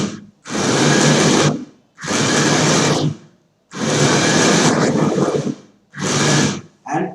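High-RPM motors of a joystick-controlled Arduino robot whirring in four separate loud bursts, each about a second long, with brief silences between.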